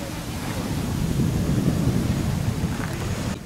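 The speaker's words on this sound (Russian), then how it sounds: "А пронаблюдайте, какой тропический шторм на горы падает." Steady roaring wind and crashing surf from a tropical storm at sea, heard from a cruise ship near mountains off Mexico, a continuous loud rumbling wash with no break.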